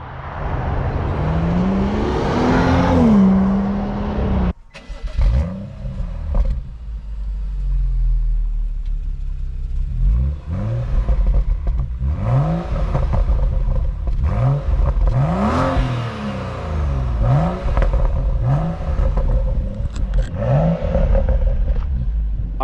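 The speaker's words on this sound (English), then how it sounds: "So we'll get round to the back of the car then and we'll give them some revs and Tom can embarrass me." Engine revs from a BMW M135i or VW Polo GTI with standard exhaust, recorded from behind the car: repeated rising-and-falling blips over a steady idle rumble, loud and close, with no talking.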